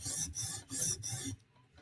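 A blade bevel being sharpened by hand, the steel rasping against the stone in slow, steady strokes: three long grinding passes up close, each broken by a brief pause, then near quiet.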